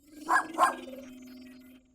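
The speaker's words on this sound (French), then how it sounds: "Un petit chien!" A small cartoon dog gives two quick, high yapping barks close up, followed by a fading whine against a steady background tone.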